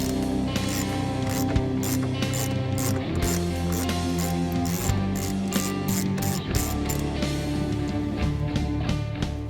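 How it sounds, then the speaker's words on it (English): A ratchet wrench backs out 8mm bolts on a 2013-2014 Ford Mustang during front splitter work, giving rapid, loud, close clicking in repeated bursts for the whole stretch. "you want to access the final 2 8mm bolts and remove them"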